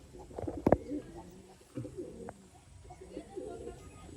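Pigeons in a loft give soft, low coos at intervals, fairly faint and close, with a sharp handling knock near the start and a quiet background hum.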